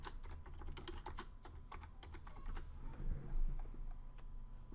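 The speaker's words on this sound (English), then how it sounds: "and then type in our new text." Quiet, rapid tapping on a computer keyboard, a steady run of light keystrokes with no voices.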